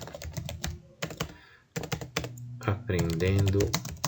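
JavaScript code being typed on a computer keyboard, quick close clusters of key clicks in bursts with short pauses, and someone speaking over the last part.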